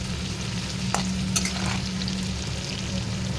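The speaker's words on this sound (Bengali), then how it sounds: "সবজিগুলো হালকা হালকা ভেজে নিচ্ছি" Steady sizzling of mixed vegetables frying lightly in hot oil, with a constant low hum underneath and a few brief clinks of stirring.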